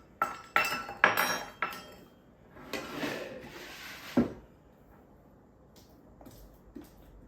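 Pecan pie filling stirred in a bowl with a utensil, giving a few light clinks and scrapes at first, then quieter intermittent taps and knocks, faint and close with no talk.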